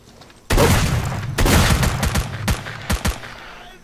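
Sustained automatic gunfire from STALKER: Clear Sky, a loud burst of rapid shots followed by a second long volley, then several separate sharp shots, with no talking.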